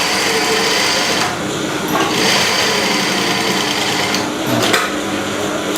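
A sewing machine runs steadily and loudly, stitching the upper edge of a double-welt fabric pocket just below the first seam line, with brief pauses in its whirring.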